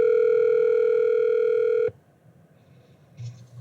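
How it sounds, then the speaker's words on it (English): A phone call placed through a wireless CarPlay head unit in a 3rd-gen Toyota Tacoma gives a loud, steady dial tone that cuts off abruptly, followed by near-silence and a faint soft sound. "let's try to make a phone call"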